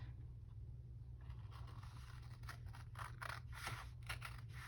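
Scissors cutting through paper to make pockets for a handmade folio, close and soft, with a run of crisp snipping strokes over a steady low hum, no talk.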